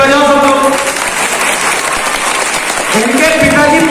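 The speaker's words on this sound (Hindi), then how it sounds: "ताली बजाओ सब लोग" Audience applause at a Holi gathering, a steady wash of clapping through the whole stretch, with a raised voice talking over it near the start and again at the end.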